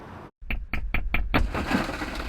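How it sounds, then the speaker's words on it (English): A pickup truck window is smashed at night, a sharp series of about five quick cracking hits followed by a crunching, scattering rush of breaking glass. "That's the sound of glass breaking in this pickup truck Friday night."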